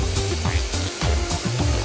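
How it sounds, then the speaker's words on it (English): Sand blasted at about 4 bars of pressure onto a pair of jeans clamped inside a sealed unit, a steady loud hiss with rhythmic pulsing bursts and low thumps running throughout. "A worker sprays a pair with about a kilo of sand at 4 bars of pressure."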